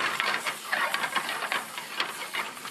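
Herbs and garlic sizzle in hot olive oil in a pan, a steady crackling hiss with small pops, close and continuous, with no talking over it.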